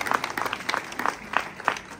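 A crowd at an autumn arts exhibition opening in Fronton claps for the sculptor Sylvain Croisy, a thinner, uneven patter of hands with distinct louder bursts, nearby and fading somewhat.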